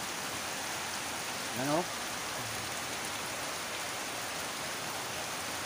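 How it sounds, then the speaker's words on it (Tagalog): Strong floodwater in barangay San Antonio, Misamis Oriental, rushes with a constant broad roar, and a voice speaks briefly over the steady wash. "Lakas po yan ng baha na yan."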